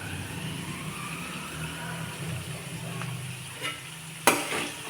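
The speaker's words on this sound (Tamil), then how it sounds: "வெங்காயம் வதங்கட்டும்" Onions sauté in a pan for an egg fry with a steady, low hiss. A faint rumble sits underneath, and near the end there is a single sharp clink from a utensil.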